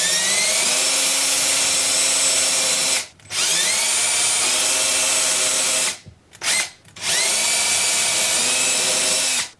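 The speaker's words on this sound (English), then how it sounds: "you'll have no choice but to use a handheld drill" A handheld power drill bores holes into a guitar body to mount a Telecaster bridge, its high steady whine running loud and close. Three short breaks come where the trigger is released and the motor spins back up.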